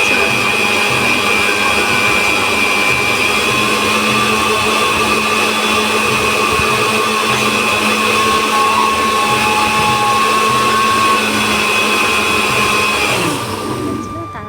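A blender whirs continuously as it purées mango for mango sherbet, a loud steady high-pitched motor whine that holds for the whole stretch and winds down at the very end.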